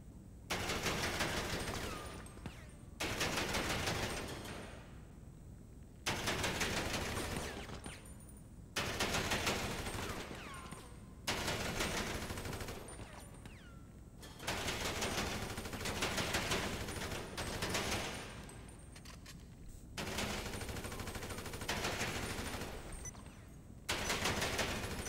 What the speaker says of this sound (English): So I've got an assault rifle.